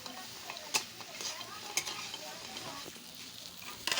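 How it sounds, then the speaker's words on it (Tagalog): Tofu and hotdog frying in a pan, stirred with a utensil: a quiet steady sizzle broken by a few sharp scrapes and clicks against the pan, close up with no talking. "halo-haloin natin maigi para ma-absorb yung tokwa at saka hotdog"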